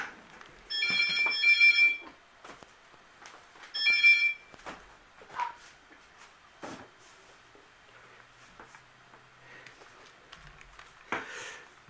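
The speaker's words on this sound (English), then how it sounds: "Never mind, I wasn't fast enough to go pick up the phone." A prison telephone rings with an incoming call: two short electronic ring bursts a couple of seconds apart, then scattered faint knocks and shuffling in a quiet room.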